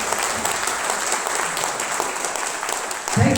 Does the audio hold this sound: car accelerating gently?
no